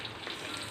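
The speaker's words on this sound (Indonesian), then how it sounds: "Digoreng dalam minyak yang panas dan jangan lupa dibolak-balik agar tidak gosong." Black sticky rice tape frying in hot oil in a wok, a dense continuous sizzle with crackling bubbles, steady and close.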